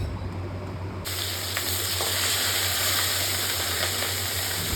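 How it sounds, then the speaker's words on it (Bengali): Close, steady sizzle of rohu fish frying in hot oil, crackling continuously and growing fuller after the first second, with occasional small pops. "এক পাশে রুই মাছ ভাজা হচ্ছিল"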